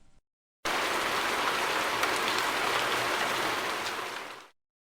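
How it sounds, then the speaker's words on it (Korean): Steady monsoon rain falling during the rainy season, a dense even hiss of drops that starts abruptly, holds at a constant level for several seconds, then fades out, with no voices. "며칠 동안 쉬지 않고 내리는 빗소리는"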